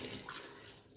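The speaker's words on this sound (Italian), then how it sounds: "poi versiamo dentro la nostra acqua" Tap water poured into a bowl of pizza dough mix, a steady close splashing rush that holds for the whole second before easing slightly at the end.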